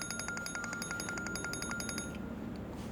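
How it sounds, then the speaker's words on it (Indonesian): A phone alarm sounding as a reminder to take medicine, a fast string of bright, evenly pulsed beeps for about two seconds, faint over a low room background, then stopping. "Ki, itu alarm apaan?"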